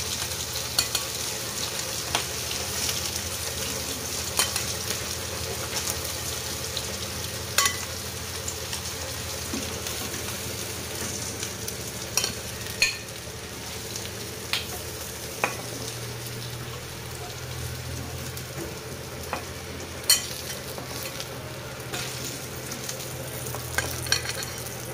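Hilsa fish frying in hot oil in a pan gives a continuous dense sizzle, with occasional sharp clinks of a spatula stirring, close and fairly loud, with no speech.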